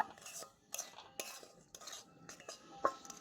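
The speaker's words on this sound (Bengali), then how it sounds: "এবার আমি এগুলোকে ভালো করে মিশিয়ে নেব" A spoon scrapes and clinks against a pan while semolina and a pinch of salt are stirred dry for gujiya filling, soft irregular strokes with a few sharper metallic taps.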